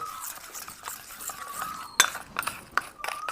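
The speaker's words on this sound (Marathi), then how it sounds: "तर ह्याला मस्तपैकी असं फेटून घेऊ, म्हणजे जेणेकरून ही साखर सगळी ह्याच्यात विरघळली पाहिजे" A spoon whisks a homemade sugar facial mixture in a bowl, giving soft swishing strokes with several sharp clinks against the bowl, close and fairly quiet.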